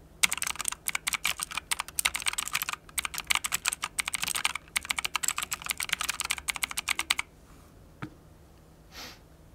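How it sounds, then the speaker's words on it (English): Rapid typing on an MSI Vigor GK50 Elite mechanical keyboard, keycaps bottoming out in quick, crisp clacks that come in bursts with brief pauses, close and loud before the keystrokes stop near the end. "when you're actually typing, you tend to bottom out the keycap, so you'll hear more like this"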